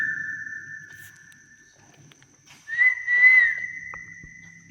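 A person whistles a steady tone at night in a quiet spot thought to be haunted, with a long held note at first, a pause, then a louder wavering whistle that trails off, under faint background noise.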